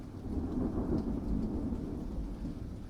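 A thunderstorm sound effect with heavy rain and hail: a deep, rolling thunder rumble swells and lingers under a dense, steady wash of pouring rain, loud and close, with no voices.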